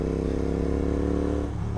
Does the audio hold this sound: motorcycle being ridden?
yes